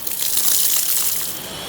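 Water gushes out in a steady pour in a home kitchen during cooking of drumstick and lentil curry, a close, continuous splashing stream lasting under two seconds with no voices.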